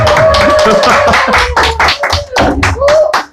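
A crowd at a political briefing claps in loud, uneven bursts, while a voice carries over the applause.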